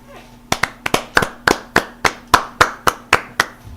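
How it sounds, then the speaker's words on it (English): A Jason Garrett clap: a string of about a dozen sharp, close, loud hand claps at an even, brisk rhythm, each ringing briefly, with a faint steady hum beneath. "I'll give you a Jason Garrett clap."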